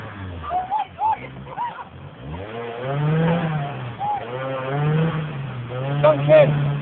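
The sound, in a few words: off-road vehicle engine revving while climbing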